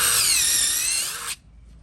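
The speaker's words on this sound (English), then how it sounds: "I'm gonna drill right here at the base of the tree" A power drill bores into the base of a living tree, a loud, steady high whine with a harmonic tone that holds for over a second and then cuts off abruptly, leaving near silence.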